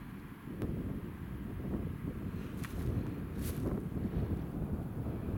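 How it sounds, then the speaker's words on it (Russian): Steady wind blows by a pond outdoors, rushing and gusting into the microphone in an unbroken roar, with faint brief ticks on top and no voices. "О, о, как интересно гуляет ветер."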